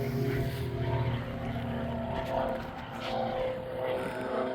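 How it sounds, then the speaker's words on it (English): Propeller airplane passing overhead, a steady droning hum with low harmonic tones that swells and fades gently, heard outdoors during a motorcycle walkaround. "Ignore that plane."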